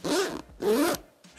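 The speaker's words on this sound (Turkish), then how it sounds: "Fermuarların sesinden anlamışsınızdır." Zippers on a Vanguard Alta Sky 68 camera backpack with large teeth are pulled in two quick, close, loud strokes, followed by a fainter partial pull.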